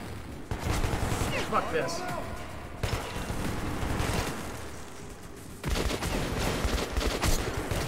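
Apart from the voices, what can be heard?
gunfire in video game Metro 2033 Redux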